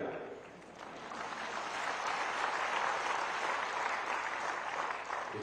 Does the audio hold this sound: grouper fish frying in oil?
no